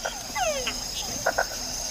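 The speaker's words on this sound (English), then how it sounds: "That was a red-eyed tree frog, the one that went flip, flop, flop." A red-eyed tree frog calls in a Panamanian wild setting, with short repeated croaks and clicks over a steady insect drone, fairly close and continuous.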